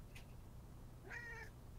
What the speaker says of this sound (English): bird made a noise that sounded like your cat.